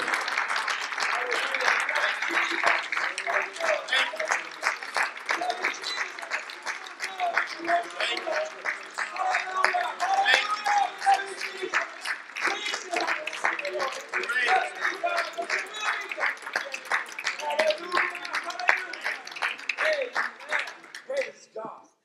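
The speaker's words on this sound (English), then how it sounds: "Let's just give the Lord a hand clap again." A church congregation claps for the Lord during a worship service, with steady crowd clapping sustained for about twenty seconds and voices mixed in throughout.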